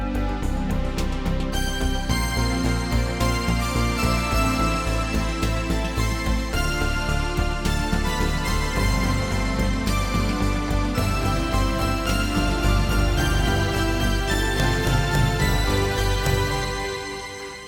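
Layered synthesizers play a dense, loud and sustained wall of sound that stays steady throughout before fading slightly at the end.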